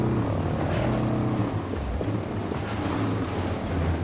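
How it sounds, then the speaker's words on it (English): A helicopter in Ghost Recon Breakpoint drones steadily with a low rotor rumble, continuous and moderately loud, with no voices over it. "Oh, we got a helicopter."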